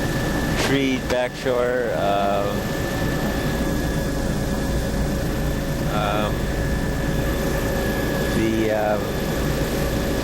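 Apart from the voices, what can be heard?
light aircraft flying at 80 knots during aerial survey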